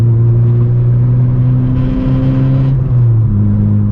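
A 9th-generation Honda Civic Si fitted with a full race exhaust drones steadily from inside the cabin, its low, throaty tone holding and then shifting pitch as the revs change.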